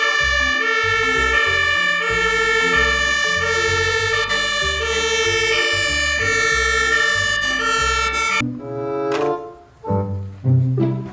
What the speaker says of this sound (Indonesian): Mobil pemadam kebakaran.